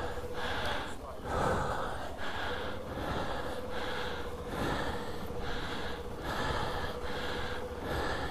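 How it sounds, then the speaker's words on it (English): Heavy, rapid breathing inside a motorcycle helmet during a ride, loud close gasps repeating roughly every second over a constant wash of wind and engine noise. "I caught myself breathing like that, adrenaline kicking now. even inside the helmet"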